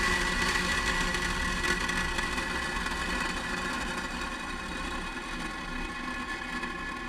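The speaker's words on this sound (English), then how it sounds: "ignition. We have liftoff. Go Falcon 9, go SpaceX, go Starlink Group 615." SpaceX Falcon 9 rocket engines at liftoff on a Starlink mission give a continuous broad rumbling roar, steady and heard from a distance, with no voices.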